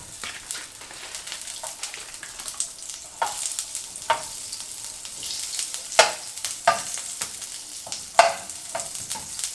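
Cabbage rice sautéing in Anchor unsalted butter in a pan, a steady close sizzle broken by scraping stirs and occasional sharper clicks of a utensil, with no talking.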